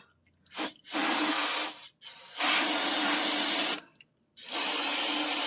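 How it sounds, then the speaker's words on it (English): Pressurized spray blasts old rear differential fluid out of the housing in three long hissing bursts separated by short pauses, close and loud with no talk. "Try to spray as much of this old fluid out as possible."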